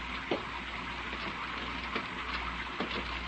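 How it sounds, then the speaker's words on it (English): Rain sound effect in an old-time radio drama, a soft, steady patter with faint crackling and a few brief louder ticks, heard alone at low level. "The rain, Myra, the blessed rain"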